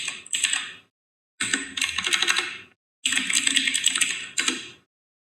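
Code is typed on a computer keyboard in rapid clattering bursts of keystrokes, separated by brief silent pauses, close and clear with no other sound.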